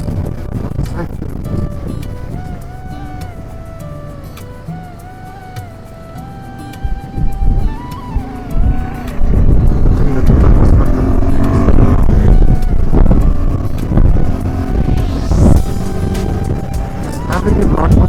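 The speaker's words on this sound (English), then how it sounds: "There's the first car." A car passes on a high mountain road on the way from Namika La Pass toward Leh, heard from a KTM 390 Adventure motorbike amid heavy wind noise and engine rumble, swelling louder midway while someone talks.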